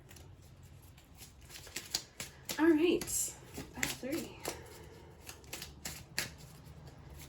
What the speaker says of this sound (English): I'm shuffling those, the moon and the death card back into the deck